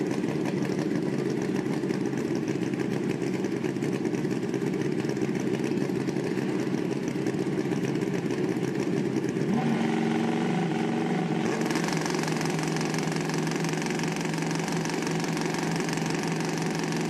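Kawasaki and Suzuki drag racing motorcycles at a spring nationals event, engines droning loud and steady throughout, with a shift in pitch and a sharper higher tone entering near the end as the bikes rev.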